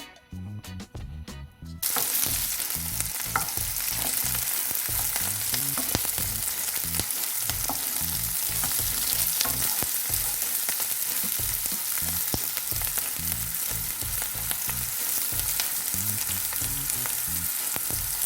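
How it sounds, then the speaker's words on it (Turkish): Peppers frying in a pan with red pepper flakes, a loud continuous close sizzle that begins abruptly after a short quiet opening, with occasional stirring scrapes and no talk. "Ara ara karıştıracağız biberlerimizi."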